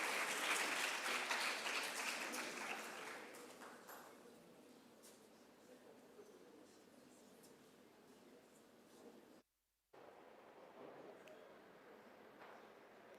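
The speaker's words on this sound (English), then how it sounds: "Everybody give a huge round of applause for Shruti," Applause from a TED-Ed student talk audience welcoming a speaker, loud and broad at first, then fading over a few seconds into a quieter room with a brief dropout near the end.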